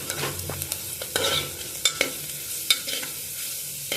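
Ground masala paste sautéing in ghee for masala bhat, stirred with repeated spoon scrapes and clinks over a continuous sizzle, close up with no speech.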